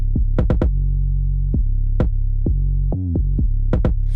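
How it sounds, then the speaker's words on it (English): Deep, booming kick drum hits with heavy sustained low end, struck in an irregular pattern, loud and close with nothing else playing. "It's a very fat kick."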